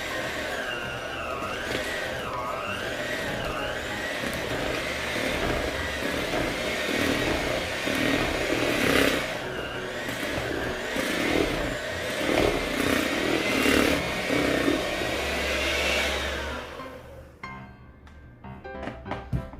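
An electric mixer beats banana bread batter, a steady loud whir that runs nearly unbroken for most of the stretch, then cuts off into a few faint clinks near the end.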